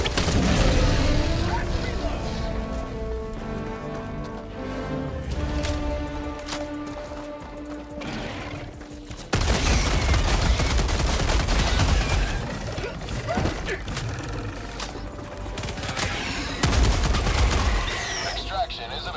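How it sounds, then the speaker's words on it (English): Orbital strike bombardment in Helldivers 2, heavy booming blasts and rapid crackling gunfire in repeated bursts, loud and close, with a sudden powerful impact midway and voices talking underneath. "Requesting orbital strike."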